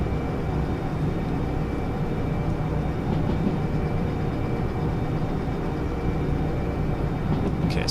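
A locomotive in the Derail Valley train game labours up a steep grade while slowing under power, giving a steady, unbroken rumbling drone that stays loud and even throughout with no voices.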